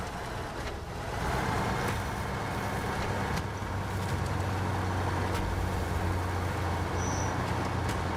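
Steady truck engine drone in the video game SnowRunner, the Muteidiot truck shifting into high gear, a loud continuous low rumble that settles into a constant pitch with faint clicks and no talk.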